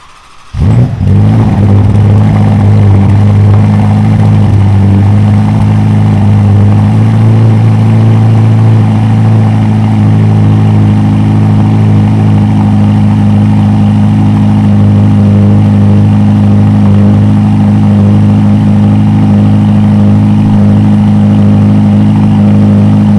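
A Ferrari Roma engine cranks and fires up with a loud burst, then settles into a steady, deep idle that runs on evenly and close by for the rest of the time, with no talking.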